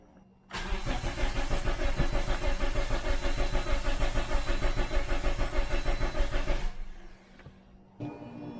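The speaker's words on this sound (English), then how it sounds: "now I'm going to crank it over a few times, try to get oil to that bag" A Toyota Corolla engine, partway through a turbo install, is cranked over by the starter for about six seconds in a loud, steady, rhythmic churn, then cuts off, leaving a quieter hum.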